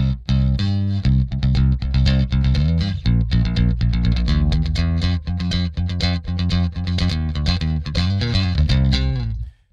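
Bass guitar played through a Trace Elliot amp with the pre-shape contour switched on, a continuous run of loud, punchy notes with a thick low end and bright attack for nearly ten seconds, heard alone without talking.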